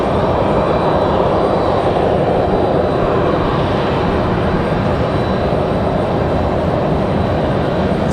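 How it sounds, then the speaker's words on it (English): At Raleigh-Durham airport an Embraer E190 jet airliner headed to Louisville gives off a sustained, loud engine roar with a broad rushing texture, holding steady throughout and heard alone without voices. "E190 is headed. This one's headed to Louisville."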